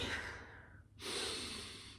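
A person breathes deeply, a long exhale fading out, then after a short pause a strong, close inhale that gradually tapers off, with no talking.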